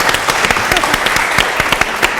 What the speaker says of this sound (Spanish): Fuerte el aplauso para Dante, gracias por estar.